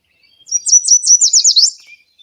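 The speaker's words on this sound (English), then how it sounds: "So this is the yellow warbler." A clear, high, bright yellow warbler song played from a phone app: quick sweet notes rising into a rapid run, heard alone, close and loud against silence.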